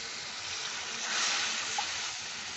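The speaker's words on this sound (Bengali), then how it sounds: "এখন আমি জল দিয়ে দিচ্ছি" Water being poured into a pan of frying spiced masala for a Bengali dhaniya katla fish curry, producing a soft, continuous hissing sizzle that swells briefly midway, fairly quiet and with no voices.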